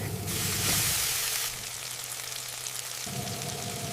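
Meat frying in a pan for an AI-made anime cooking scene: a steady hiss of sizzling oil, loud and close, with a brighter burst early on before settling into an even frying sound.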